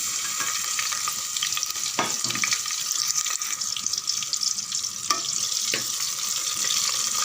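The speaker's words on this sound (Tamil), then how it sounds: "பாதி அளவுக்கு வெங்காயம் வதங்கினா போதும்" Sliced onions fry in oil with mustard seeds and urad dal, giving a steady bright sizzle broken by occasional soft stirring scrapes.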